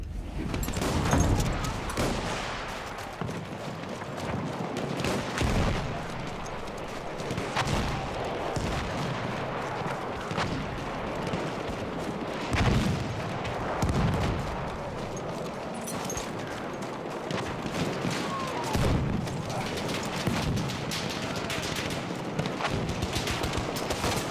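Battlefield 1 combat on the Brusilov Offensive map fills the scene with near-constant gunfire and heavy artillery booms, sharp shots punctuating a rumbling din that stays loud throughout.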